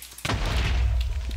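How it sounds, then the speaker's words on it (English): A Minecraft creeper explodes: a sudden loud boom bursts in after a brief quiet moment, followed by a rumbling low roar that lingers through the rest of the moment. "So much for no creeper explosions."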